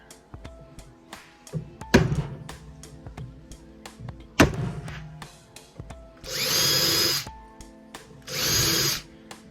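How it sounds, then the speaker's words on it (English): A power drill pre-drills screw holes during a truck upgrade, with two sustained whirring bursts near the end after a series of sharp knocks and clatters from handling parts and screws. "so I can just pre-drill some holes and then get them attached"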